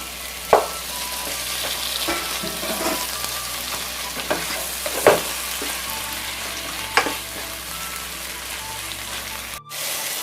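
Onions and tomatoes fry in a pan for prawn dum biryani, a steady loud sizzle running throughout with a few sharp clinks and stirring scrapes scattered on top.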